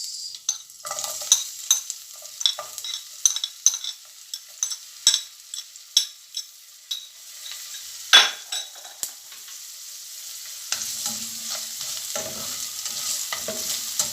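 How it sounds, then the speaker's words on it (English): Onions being stir-fried in a pan with a little salt for chicken wing noodles: soft sizzling under repeated scraping strokes of a utensil, a regular run of distinct stirs, close and clear, with no talking. "Just stir fry the onions a little bit."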